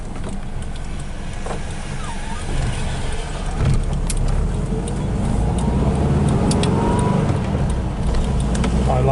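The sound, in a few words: 1970 VW Type 3 fastback engine running during test drive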